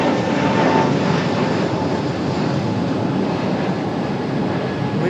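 A Frontier Airlines jet climbing steeply out of Raleigh Durham airport, a steady loud broadband engine roar that holds evenly throughout without breaks.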